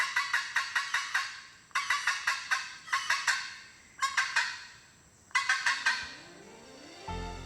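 A red-throated caracara, a bird of the falcon family in Central American forest, gives loud harsh repeated calls in rapid rhythmic bursts of four to six notes, separated by brief pauses, with no other sound.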